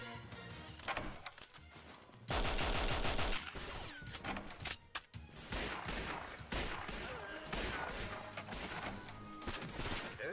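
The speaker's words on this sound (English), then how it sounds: "Please stop shooting me." Rapid automatic gunfire in 007: Nightfire, dense bursts of shots with sharp impacts and crashing debris, loud and continuous through most of the stretch with brief lulls.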